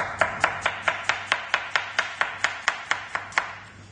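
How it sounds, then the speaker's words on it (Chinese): A knife chops steadily through an onion into thin shreds on a cutting board, about fourteen crisp evenly spaced strokes close up with no talking. "然后呢，我们切洋葱丝。"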